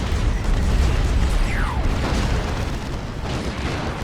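Rocket run explosions in the Dawn of War 2 Space Marines versus Imperial Guard battle: a dense, continuous rumble of booming blasts with a brief whistling streak midway, loud and sustained throughout.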